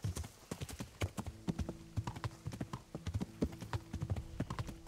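Horse hooves clip-clop in a steady galloping rhythm in a medieval video game, close and distinct, with faint background ambience and no talk.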